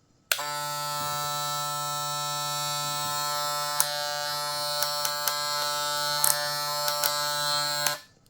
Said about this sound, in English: Okay, it's a magnetic hair clipper.